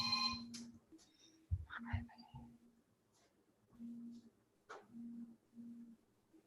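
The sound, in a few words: mobile phone ringing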